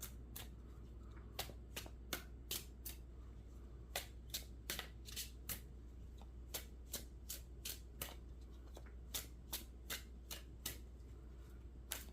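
Tarot cards being shuffled and pulled: a steady run of crisp, close riffling snaps, roughly a dozen quick flicks at an irregular rhythm over a quiet background.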